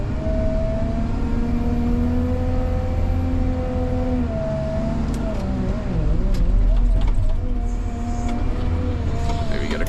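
A loaded dump truck pulling into a busy site hauling dozens of loads a day, with a Caterpillar 930K loader nearby; a steady engine rumble and whine fill the clip, swelling slightly midway as the vehicle rolls closer.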